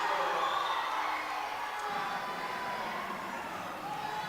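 A crowd at a Championship basketball game between Caledonia Gladiators and Sheffield Hatters reacts to a foul call, its murmur and jeers forming a steady, moderately loud roar in the arena with no speech over it.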